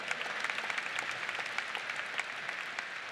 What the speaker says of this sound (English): A round of applause for Hoosier proud, for being proud of your state and of your university